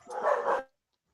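A dog barks in a short, close burst of a few quick yips lasting about half a second, then silence.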